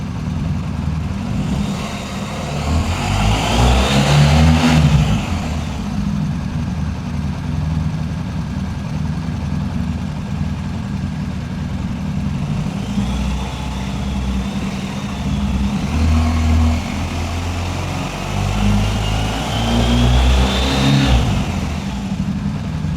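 A motorcycle engine idles steadily, then revs up and falls back twice, the pitch rising with each rev.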